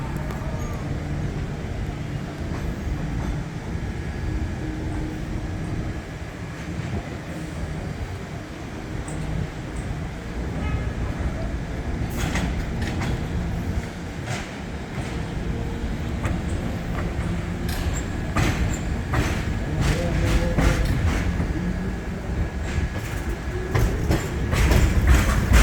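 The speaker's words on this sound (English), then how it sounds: "Okay, there's an N train coming." An NYC subway N train arrives at Astoria Ditmars Blvd with a steady loud rumble and rail clatter, metallic squeals and clicks building over the last half as it draws close.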